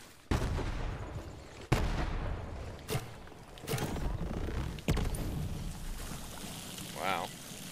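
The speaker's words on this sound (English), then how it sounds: "Shotgun is pretty dope though." Heavy shotgun blasts in Borderlands 3, five loud separate booms spaced roughly a second or more apart, each with a short rumbling tail, with a player talking between them.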